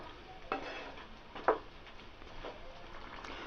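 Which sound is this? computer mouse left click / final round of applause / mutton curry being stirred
mutton curry being stirred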